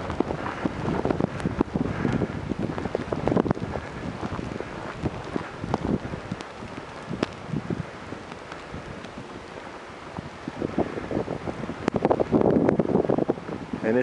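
Blizzard wind driving snow through a Chicago street during the 2011 snowstorm, a constant rough roar and buffeting of moderate loudness, with gusts swelling near the start and again toward the end, no voices.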